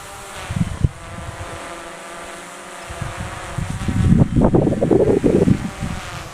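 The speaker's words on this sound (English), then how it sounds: "Keep your eyes on the drone and here we go." A drone launching and flying out over the ocean gives a steady, high insect-like buzz that grows louder and rougher toward the end, mixed with gusty wind noise.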